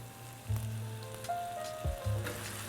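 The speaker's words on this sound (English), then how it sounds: "And now I'm gonna add my sauce in." Garlic and tomato sauce with chopped tomatoes sizzles quietly in a pan, a soft steady crackle with a few small clinks and bubbles, no talking.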